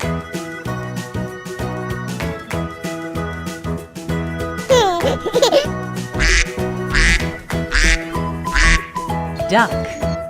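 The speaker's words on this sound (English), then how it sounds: "Duck." Several short quacks from a wooden animal sound toy's duck pop out over continuous background music, moderately loud and close, with no one talking.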